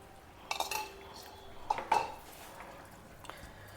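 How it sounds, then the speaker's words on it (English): Powdered methi seeds and hing are stirred into a simmering pot of traditional brinjal masiyal, with a few soft metallic clinks of a spoon against the pot over quiet kitchen background. "Meanwhile, our powder of methi seeds and hing is ready. You can add it to this."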